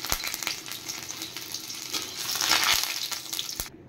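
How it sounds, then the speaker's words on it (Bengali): Sliced garlic sizzling and frying in hot oil in a home kitchen, a steady bright crackle with occasional stirring clicks, swelling louder midway before cutting off near the end. "তেল গরম হয়ে গেছে, আমি প্রথমে রসুনগুলো ভেজে উঠিয়ে নেব।"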